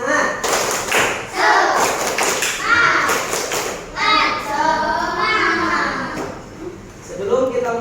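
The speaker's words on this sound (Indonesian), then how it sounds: "Tepuk semangat" A class of children in a school classroom doing a rhythmic spirit clap, with patterned group claps and thumps in bursts mixed with chanting voices throughout.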